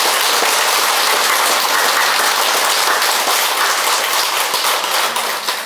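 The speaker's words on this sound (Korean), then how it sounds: "오늘 축일을 맞은 성모님께 박수 한번 쳐드립시다" A Catholic Mass congregation at a Marian shrine applauds on a feast day, a loud, dense, continuous clapping that sounds almost like heavy rain, holding steady throughout and easing only at the very end.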